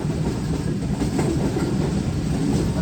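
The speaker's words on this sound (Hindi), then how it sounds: "हमारी 28 आवर शालीमार एक्सप्रेस ZCU 6317 के साथ एंटर हो रही है सिंध के दिल में यानी कि नवाबशाह शहर में" A Shalimar Express passenger train runs through Nawabshah in Sindh at night, giving a loud, steady rumble and rattle of wheels and carriages that carries on without a break. No one speaks.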